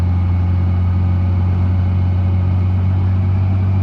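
A loud, steady low engine drone rumbles continuously from a tractor running nearby on the road, with no pauses or voices.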